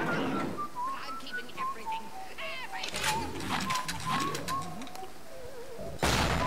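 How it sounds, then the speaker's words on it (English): Short, wavering whistled notes drift over low ambience and rumbling effects in the video game BioShock, ending with a sudden burst of noise. "I hear you whistling."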